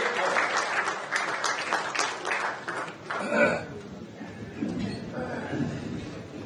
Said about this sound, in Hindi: आपने मेरे स्वागत सम्मान में जो घनघोर तालियां बजाई हैं